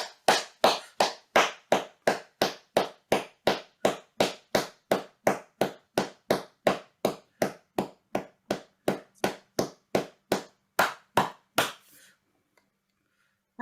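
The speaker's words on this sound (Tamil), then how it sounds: "இப்பொழுது நாங்கள் 30 வினாடிகள், அரை நிமிடங்கள் கைதட்ட வேண்டும்." Steady rhythmic hand clapping, about thirty sharp claps in even succession, loud and close, from a Tamil meditation gathering in Australia, ending abruptly in near silence.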